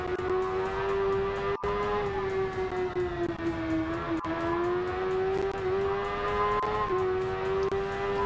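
Race motorcycle engine in the video game Ride 2 screams along a track at high revs, a loud, close, sustained whine that rises and falls slightly through gear changes.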